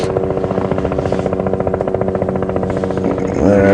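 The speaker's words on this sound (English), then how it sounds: "You may be able to hear a helicopter in the background." A helicopter flying overhead at Djuma Game Reserve, its rotor thumping in a fast, steady pulse, loud and close, with a droning engine hum that swells toward the end as it approaches.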